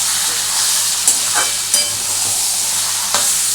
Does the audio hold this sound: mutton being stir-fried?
yes